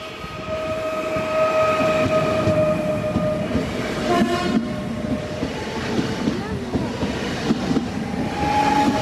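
A passenger train pulls away from a Polish station platform, wheels rumbling and clattering steadily with tonal hums throughout, fairly close, and a short horn-like tone partway through.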